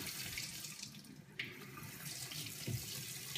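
Tap water runs steadily into a sink while the flow and temperature are adjusted, a close, continuous splashing stream with a brief knock partway through.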